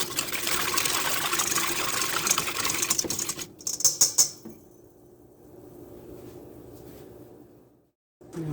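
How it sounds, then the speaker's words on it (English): Sugar and salt whisked together in a bowl give a dense, rapid scratchy rattle for about four seconds, then a quieter steady scraping; no one speaks. "I'm going to whisk until thoroughly combined."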